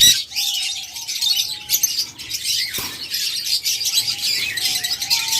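Birds chirp and tweet continuously, several calls overlapping at close range, with occasional flutters and a brief clatter partway through.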